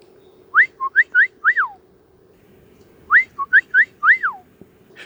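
A person whistles an imitation of a black-headed grosbeak's song: two bursts of quick, rising and falling sweet whistled phrases, about five notes each, loud and close, with a faint steady hum behind them.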